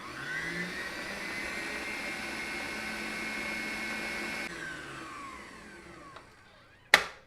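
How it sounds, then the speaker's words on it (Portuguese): An electric stand mixer whirs steadily as it beats egg yolks into a lemon curd tart filling, a continuous motor hum that fades toward the end before a sharp clunk. "adicionar as minhas gemas e vou deixar ela batendo novamente"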